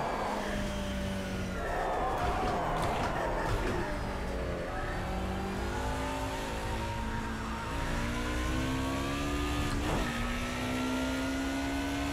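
Race car in the Project CARS 2 racing video game, engine whining and shifting through rising and falling revs as it brakes and accelerates, steady and moderately loud with no talk.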